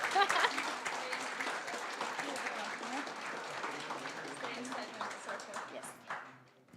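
An audience at the EdTech HACK 2024 final pitches gives a full round of applause, the dense clapping running steadily under a speaking voice before tapering off at the end.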